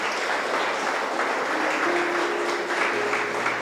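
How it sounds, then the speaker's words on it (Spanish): A church congregation claps together during a Spanish-language service, a thick, continuous burst of applause filling the room for a few seconds, loud and close. "Dele un aplauso a Jesús por eso."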